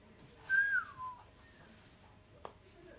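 A person whistles a short, clear falling note, brief and fairly close over a quiet background, followed by a small click.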